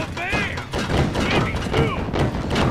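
Cannons firing in the video game Sly Cooper: Thieves in Time, a dense run of overlapping booms and thuds mixed with game effects and music, loud and continuous throughout.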